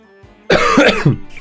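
A single harsh cough, close and loud, breaking into two or three quick rough bursts before fading.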